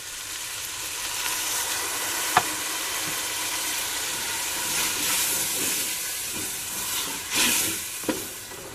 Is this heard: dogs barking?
no